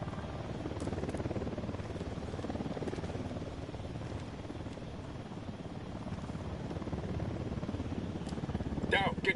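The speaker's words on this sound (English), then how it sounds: "Down, get down, chopper." A helicopter rotor thrums continuously in the Ghost Recon Wildlands video game, with its drone swelling slightly toward the end as the aircraft draws nearer, and short game sounds on top.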